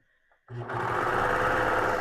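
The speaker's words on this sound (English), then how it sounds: "sew that seam together to create a circle" A sewing machine stitches a stretchy hoodie seam, starting abruptly after a brief quiet moment and then running as a steady, close, rapid mechanical whir.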